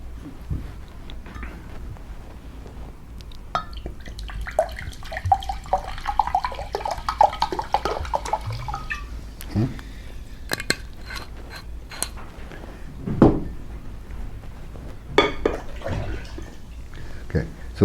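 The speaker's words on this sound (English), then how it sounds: "we're going to start with 3 cups of spring water, and we're going to put these in our blender." Spring water pours and splashes into a blender in a few short bursts, with clinks and handling noises, under a steady background hum.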